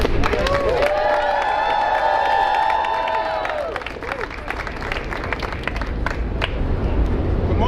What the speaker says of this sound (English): a big, big round of applause for Jose Rosado